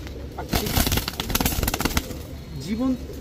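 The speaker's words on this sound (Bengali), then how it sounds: "ডিপ ব্লু চোখের ঝুমা পাখি একটা নর" A male Jhuma pigeon with deep blue eyes gives a short, low coo near the end, after a burst of rustling and flapping from being handled up close.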